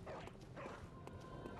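Dogs in the video game Bloodborne: short yips and whimpering barks repeat a few times over a dense, steady game soundscape.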